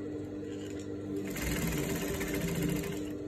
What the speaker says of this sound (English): I'm just going to match the facing on the neckline and I'll go ahead